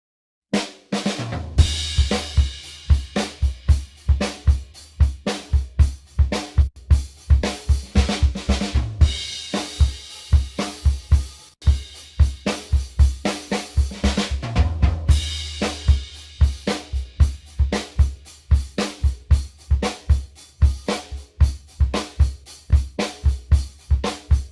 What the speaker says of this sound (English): So you can get a nice clean drum sound there